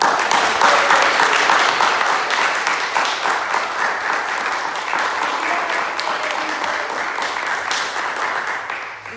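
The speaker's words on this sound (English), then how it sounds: "So can we get a round of applause?" Audience at the opening of an AI center lab giving a sustained round of applause, dense and loud at first and slowly tapering over about nine seconds, with a faint voice underneath.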